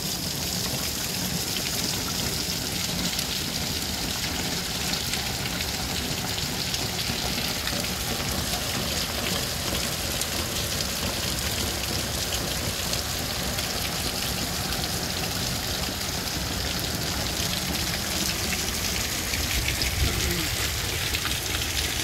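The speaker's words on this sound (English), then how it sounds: "but getting a little bit of hail." Hail falls outdoors beside an RV as a steady, dense patter of hits that continues unbroken throughout, with a faint voice in the background.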